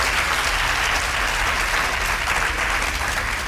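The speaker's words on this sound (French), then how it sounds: "On l'applaudit très très fort." A studio audience at a French television game show claps loudly and steadily, a dense even burst of applause with no voices on top.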